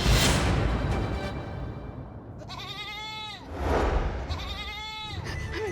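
A goat bleats twice in wavering, drawn-out cries, each lasting about a second, over a steady background noise. The second bleat follows shortly after the first.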